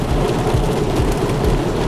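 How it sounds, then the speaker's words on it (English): Heavy rain pouring down outdoors, a loud, steady hiss with low rumbling underneath and no voices. "just rain and rain and rain"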